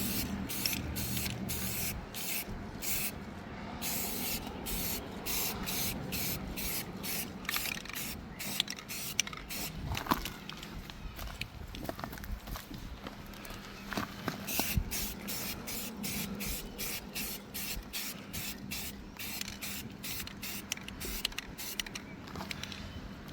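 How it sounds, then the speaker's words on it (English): Flat black primer sprayed from an aerosol can onto an RC car body, a 1/24-scale Toyota 4Runner crawler shell: repeated short hissing bursts in a steady rhythm, close and fairly loud, with no talking. "So we're just going to hit it with some flat black primer"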